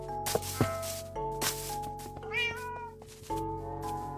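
A cat in the Minecraft video game meows several times in short, clear, separate calls over a steady background of game tones and chimes.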